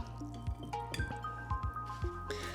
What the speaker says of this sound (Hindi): तो हम थोड़ा सा और पानी डालेंगे इसके अंदर।